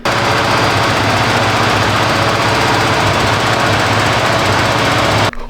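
A worn, rough-running Chevy 327 V8 in a 1972 Datsun 240Z, loud and close with a harsh, rapid knocking chatter held steady throughout before cutting off abruptly.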